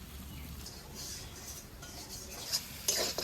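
Spices with turmeric and dried chilli powder are stir-fried in a pan for a thin shol fish and taro curry. A soft, steady scraping of a spatula runs throughout, with a few sharper clinks and scrapes near the end.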